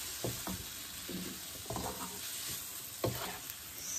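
Chopped tomato cooks in a pan, with repeated short bursts of stirring and scraping over a steady soft sizzle, alone with no voices.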